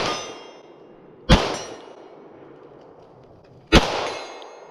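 Two sharp pistol shots from a Staccato handgun at a shooting range, each followed at once by a ringing clang from a distant steel target, spaced a few seconds apart with quiet between.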